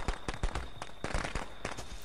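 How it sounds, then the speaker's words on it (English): Firecrackers pop in the Friday the 13th video game, a rapid irregular string of sharp cracks, about a dozen close bursts over a couple of seconds at moderate volume. "I set firecrackers. I thought it would be like a trap"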